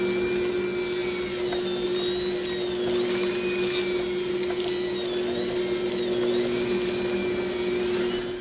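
Electric mixer whirring through sugar cookie dough, a loud continuous motor drone with slight pitch wobbles as the beaters work, steady and close with no voices.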